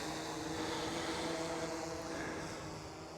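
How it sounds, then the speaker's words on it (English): A DJI Air 3S drone flying over a forest trail, heard as a steady propeller whine and hum that fades slightly as it moves farther away. "I'm gonna go a little further out so we're not hearing the drone right overhead."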